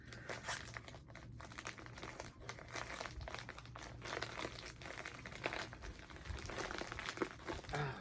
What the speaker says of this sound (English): Sorry about the crinkles, guys.